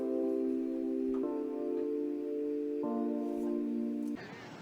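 Keys instrument in an FL Studio beat playing simple sustained chords at the same velocity, about four chord changes, moderately loud and alone, before a brief noisy burst at the end.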